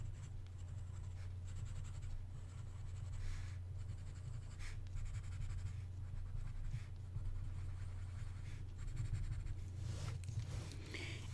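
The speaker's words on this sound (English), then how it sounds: "I'm going to come in and shade with regular pencil." Graphite pencil scratching across paper while shading the centers of daisy drawings, a close, continuous soft scraping with faint stroke-by-stroke variation over a low steady room hum, no talking.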